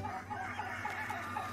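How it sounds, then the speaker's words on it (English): Broody hens clucking in the game Little Goody Two Shoes, a steady chorus of close, overlapping soft clucks and murmurs from several birds. "Let's go get these eggs from these broody hens."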